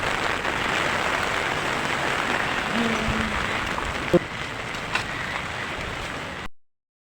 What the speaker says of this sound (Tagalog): bumuhos na yung ulan